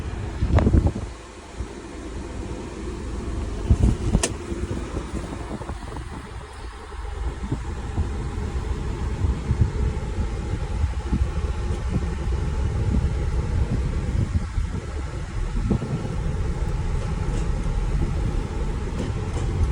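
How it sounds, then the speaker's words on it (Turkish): A damaged but running Fiat Scudo van pulls away and drives on, its engine a low steady rumble under road and wind noise, fairly constant throughout. "Araç tek marş çalışıyor. Zaten yürüyor."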